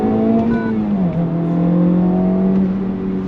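A Honda Civic Type R FL5 fitted with a titanium exhaust drones under throttle from inside the cabin, its engine note dipping briefly around a downshift before holding a loud, steady pitch.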